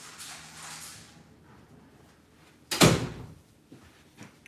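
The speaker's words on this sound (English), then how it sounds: "Let me close the door to try to get them not to come back in." A door closes with one sharp, loud thump midway, against faint room noise and a soft earlier rustle, in a home setting where people are recording a live weekly financial talk.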